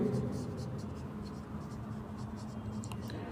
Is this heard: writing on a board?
yes